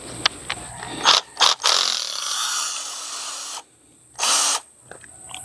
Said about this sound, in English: Drill leaves a little bit to be desired.